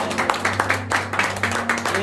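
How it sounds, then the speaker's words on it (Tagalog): A church congregation at a worship service claps in quick rhythmic bursts over sustained organ or keyboard chords, the claps close and steady throughout. "mas malakas na palakpak pa para sa Panginoon"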